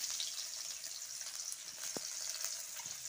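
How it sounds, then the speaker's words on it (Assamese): Chopped onions and green chillies frying in hot oil with black cumin give a faint, steady hiss and sizzle, with a single brief clink partway through. "কলা জিৰাকেইটা ফুটি উঠাৰ পিছত ইয়াত দি দিম মই কাটি ৰখা পিঁয়াজ কাটি ৰখা পিঁয়াজকেইটা আৰু কাটি ৰখা"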